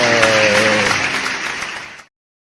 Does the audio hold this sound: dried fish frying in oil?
no